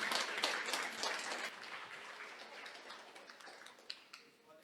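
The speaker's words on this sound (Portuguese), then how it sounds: "Aplauda o Senhor." A church congregation claps in praise during a worship service, with brisk, loud applause at first that thins and fades into scattered, softer claps near the end.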